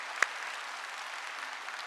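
A church congregation applauds during an Easter Sunday service, a soft, steady wash of distant clapping with one sharper clap standing out near the start.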